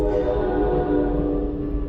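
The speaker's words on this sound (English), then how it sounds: "can you hear the train? Ah, there it goes." A train passes close by, sounding a loud, sustained horn-like tone over a steady low rumble that fades slightly toward the end. No one speaks.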